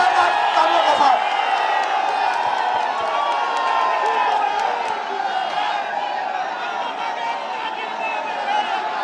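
A crowd at a party workers' convention in Chauri Chaura, Gorakhpur, claps and cheers loudly and continuously to welcome the national president, with shouts and whoops rising over sustained applause.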